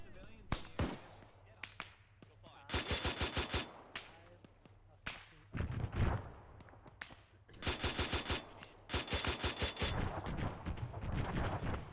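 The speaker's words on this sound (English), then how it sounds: "They're still shooting back." Gunfire in the Arma 3 video game: repeated sharp bursts of rapid automatic fire and single cracking shots, loud and close, coming in clusters separated by brief pauses, with a voice speaking in between.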